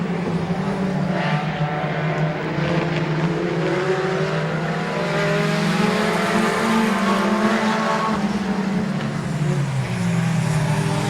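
Stock cars race around the Midvale Speedway oval, a continuous loud roar of several engines droning and shifting in pitch as the pack passes, steady throughout with no pauses.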